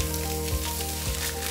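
Several pounds of meat sizzle steadily as they brown in a greasy pan, a constant close frying crackle with brief stirring scrapes near the middle and end.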